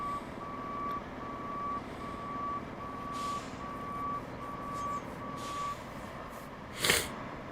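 A truck's reversing alarm beeps steadily in evenly spaced pulses over a low engine rumble, followed by a short loud hiss of air near the end.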